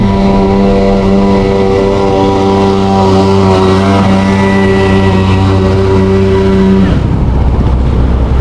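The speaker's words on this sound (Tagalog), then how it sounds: "Sobrang traffic." Heavy road traffic heard from a Rusi Macho TC 150 motorcycle, dominated by a loud, steady engine drone with a strong hum that drops away near the end, leaving rougher traffic rumble and wind.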